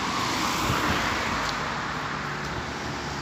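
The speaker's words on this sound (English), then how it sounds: "The traffic seems to go quiet and then noisy again." Steady, dense road traffic rumbles and hisses throughout on a walk near Upminster and Hornchurch, with passing vehicles blending into a continuous roar that stays fairly loud and close.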